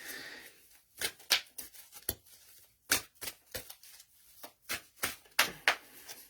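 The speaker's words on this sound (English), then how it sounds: "I'm just shuffling the cards for you at the minute." Tarot cards shuffled by hand in a series of crisp riffling bursts and slaps, irregularly spaced, close and moderately loud with quiet pauses between.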